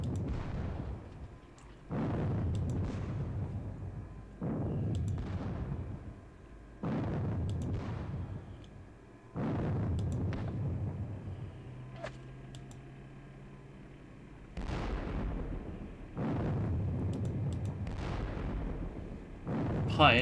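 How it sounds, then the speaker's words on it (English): Volleys of gunfire and artillery booms from a Battle of Bautzen wargame come in repeated heavy bursts a couple of seconds apart, each decaying before the next, with brief quieter gaps between them. "Pioneers are getting shot at"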